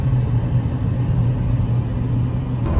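Honda Acty mini truck with an 8-speed transmission cruising in fourth gear: a steady, loud low engine drone and road rumble from inside the cab, even in pitch with no revving, alone without talk.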